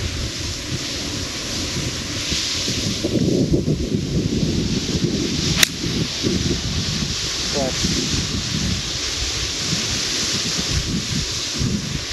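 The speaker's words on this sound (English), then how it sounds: "the wind is against us" Steady wind buffets the microphone on a golf course, a continuous broadband rush with gusty low rumble running throughout and one brief sharp click midway.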